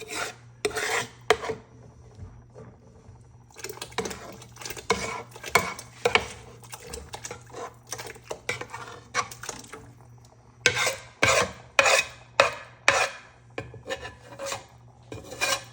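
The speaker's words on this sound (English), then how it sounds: "I'm gonna take this roux and I'm gonna put it in there the best I can here with the limited room that I have" A utensil rasps and scrapes dark roux from a container into a chicken and sausage gumbo pot, coming in irregular bursts of close scraping with short quiet pauses and a low steady hum underneath.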